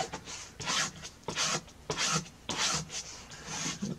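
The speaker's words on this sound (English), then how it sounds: "scrape it down. And you want to put it right side up." Repeated scraping strokes of a plastic Dollar Tree scraper tool pressing down craft vinyl for a Cricut project, about six rough rasping passes in a steady rhythm, close and fairly loud, with no talking.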